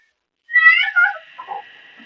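A cat gives one clear, close meow that rises then falls, followed by a softer, shorter trailing call, alone in otherwise quiet surroundings.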